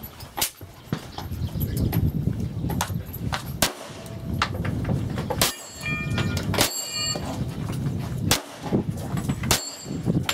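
Pistol shots at a cowboy action shooting match, about eight sharp, loud reports ringing out at uneven intervals of one to two seconds, with outdoor background noise between them.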